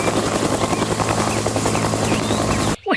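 A toy helicopter gives a steady, loud, close whirring rotor buzz without pause, cutting off abruptly just before the end.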